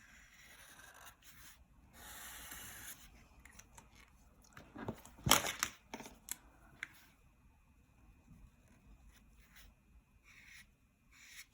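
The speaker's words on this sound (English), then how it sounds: "I'm going to outline everything with the permanent marker" A permanent marker squeaks and scratches across paper in short strokes with pauses, close and quiet, with a louder burst of rubbing in the middle.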